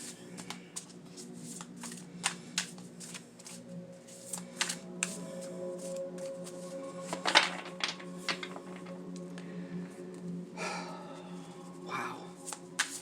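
Tarot cards are shuffled by hand in repeated soft riffling bursts, close and quiet, with a few louder flurries.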